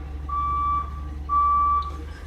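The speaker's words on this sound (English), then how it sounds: "when you hear that garbage truck" A garbage truck's reversing alarm sounds two long, steady electronic beeps separated by a short gap, loud and clear over a low engine rumble.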